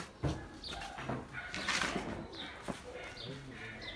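Ornamental pigeons coo close by in a loft, soft repeated calls mixed with brief wing flaps and light chirps, with faint human voices in the background.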